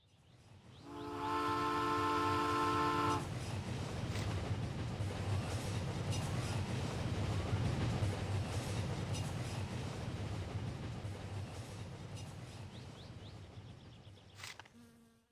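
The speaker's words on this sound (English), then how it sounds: "surely trains aren't that loud" A train rolls past in the My Summer Car video game, a loud, sustained rumble that rises sharply after a brief horn-like tone at the start, then holds steady for many seconds before slowly fading, with no talking.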